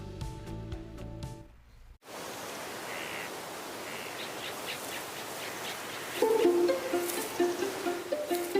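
Native forest birds of Guam calling, with chirps and tweets over a steady insect-like hiss that follows a brief musical intro, and louder calls near the end.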